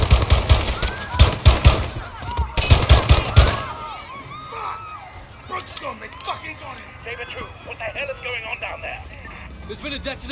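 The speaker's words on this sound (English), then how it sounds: "Shots fired." Loud, rapid bursts of automatic gunfire crack through the first few seconds of a Call of Duty Modern Warfare firefight at Piccadilly Circus in London, then fade into a busier background of distant shouting, radio chatter and scattered noise.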